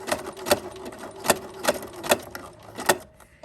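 A sewing machine stitches through thick fabric for a winter headband, its needle thumping in sharp, evenly spaced bursts roughly every 0.4 seconds, close and fairly loud with no talking.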